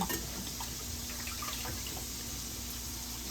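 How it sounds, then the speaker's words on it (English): Green and red peppers are rinsed under a running kitchen tap, a faint, steady splashing trickle of water with small irregular drips, heard quietly with no one speaking. "So you know we got to wash everything."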